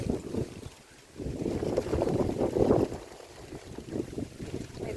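Steady, heavy wind roars and buffets the microphone throughout beside rice fields, rising into stronger gusts midway before easing slightly.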